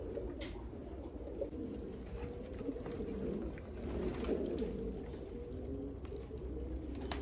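Many pigeons of assorted breeds coo together in a loft, a steady low rolling chorus of overlapping calls continuing throughout with no voices.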